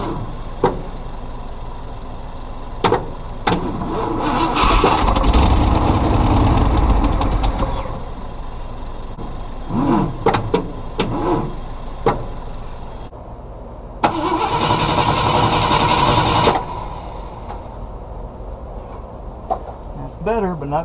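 The engine of a 1971 Ford F100 shortbed bumpside that has sat a long time cranks in repeated attempts, catches and runs briefly in two loud bursts, with short clicks and people talking in the gaps.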